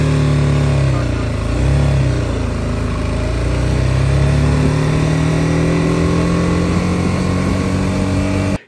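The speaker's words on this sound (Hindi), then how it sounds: "शुरुआत में एकदम तेज एक्सलेटर लेते तेज़ी से भगाने लगते हैं" A motorcycle or scooter is revved hard from a standstill, its engine rising into a loud, continuous, rough drone that holds steady until the sound cuts off at the end.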